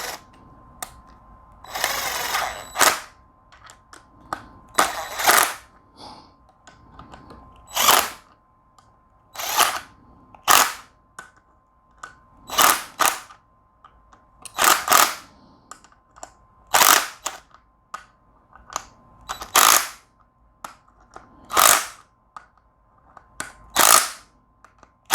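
Bolts on a rebuilt Mazdaspeed power steering pump are tightened with a tool, producing sharp ratcheting clicks and short bursts repeating at intervals over about twenty-five seconds, close up with quiet gaps between.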